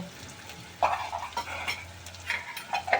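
Ginger garlic paste, about two spoonfuls, hitting hot oil in a pan for an egg curry, sizzling steadily while a spoon scrapes and stirs in several close, clattering strokes.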